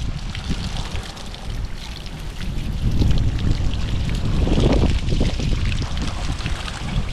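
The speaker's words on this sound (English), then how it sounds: "There's a little bit of a water feature going on" A water feature at Ely Marina gives a steady splashing gush, close and fairly loud, mixed with wind rumble against the microphone.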